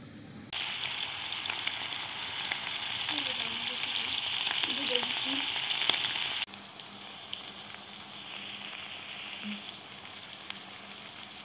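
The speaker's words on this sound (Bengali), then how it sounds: "এই মাছটা আমি ভাজবো, ঠিক আছে?" Fish frying in a pan makes a loud, continuous sizzle that drops abruptly to a quieter crackle partway through, with a few faint clinks and no speech.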